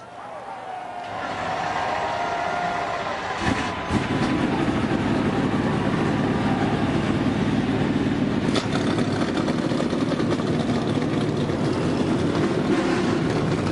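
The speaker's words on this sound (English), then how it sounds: "Drivers, start your engines." Race car engines firing up together at a nighttime motorsports event: a loud, dense roar swells within the first few seconds and then holds steady and unbroken.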